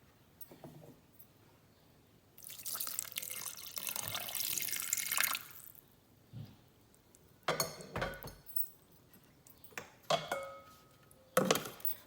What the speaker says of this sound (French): Je vais sur ma balance et j'y ajoute mes 100 g d'eau.